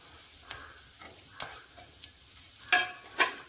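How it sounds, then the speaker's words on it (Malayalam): Chopped shallots frying with grated coconut in a pan for Kerala-style prawn theeyal, a faint, steady sizzle broken by several sharper stirring scrapes, growing louder toward the end. "ഇതിലേക്ക് നമുക്ക് ചെറിയ ഉള്ളി ഇതുപോലെ ചെറുതായി അരിഞ്ഞതൊന്ന് ഇട്ട് കൊടുക്കണം."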